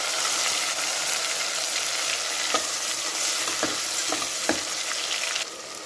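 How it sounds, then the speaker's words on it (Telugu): Chopped tomatoes frying loudly in a pan for a curry of goat trotters, a constant close sizzle broken by scraping stirs of a spoon, with no voices. "టమోటాలు ఇది కూడా బాగా వేగాలండి"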